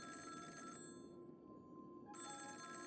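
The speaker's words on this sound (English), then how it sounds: "Are you gonna pick up the phone or anything?" An in-game telephone rings in Honkai: Star Rail, a steady electronic ring with harmonic tones that pauses briefly mid-clip and then resumes, playing over a soft background music bed.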